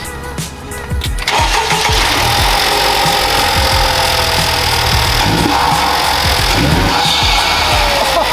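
A 2022 Honda Type R engine fitted with a new PRL high-volume intake starts up, quickly settling into a loud, steady, roaring idle that runs to the end without any talk.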